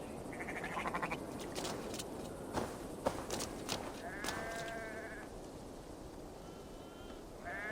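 Sheep bleat in Assassin's Creed Valhalla, with a few wavering bleats rising over a quiet outdoor ambience and soft footsteps. A longer bleat comes near the middle, and no one speaks.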